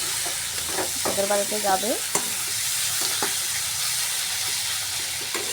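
Eggplant pieces sizzle and hiss steadily in a hot pan while being cooked for a fish curry, with a brief spoken voice over the continuous frying and occasional stirring knocks.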